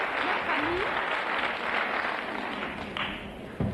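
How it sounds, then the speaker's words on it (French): A crowd at a French television game show applauds, a steady wash of clapping sustained throughout and fairly loud, with faint voices mixed in. "les applaudissements de la foule en délire"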